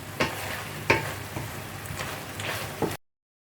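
Shrimp sauce sizzling and frying in a pan, a constant crackle broken by several sharp stirring clatters before it cuts off abruptly.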